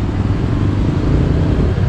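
A 2024 Honda Click 125 scooter engine idles steadily nearby, a continuous low rumble with no revving and no talk over it.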